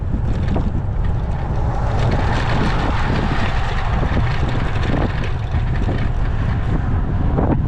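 Steady, loud headwind buffeting the microphone of a road cyclist on a gran fondo ride near Samcheok, a continuous low roar with gusty bursts and no talk.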